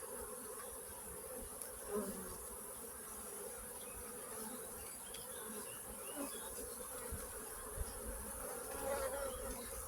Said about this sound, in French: il y a quelques abeilles